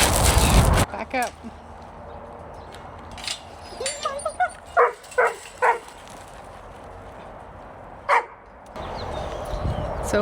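Dogs bark in short yips and whimper near a remote office setup, with a few sharp bursts and intermittent whines spread across the scene, followed by a loud rush of noise near the end.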